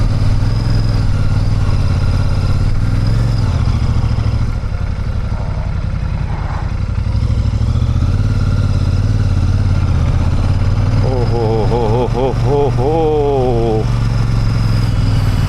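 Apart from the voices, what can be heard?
motor vehicle engine driving up a steep slope in gear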